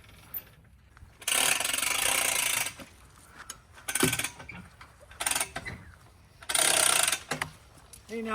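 Hand winch on a log arch being cranked outdoors, giving bursts of loud ratcheting clicks in several separate runs of one to two seconds, with quieter mechanical creaks and rattles in the pauses between.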